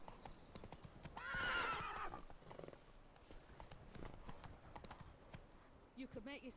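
Horse hooves clip-clop on hard ground in a busy, rhythmic patter, with a loud whinny rising partway through and a second neigh near the end, mixed with game music and a voice in the background.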